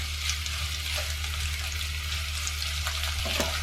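Sliced onion and bitter gourd frying in a pan give a constant, close hiss of sizzling oil, with a low steady hum underneath and a few light stirring scrapes.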